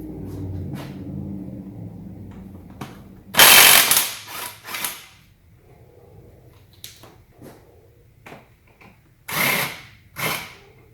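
Power tool at work while an AC compressor is removed from a Subaru Outback during a head gasket job, sounding as two loud bursts of drill-like whirring with ratcheting clicks and quieter mechanical taps between them.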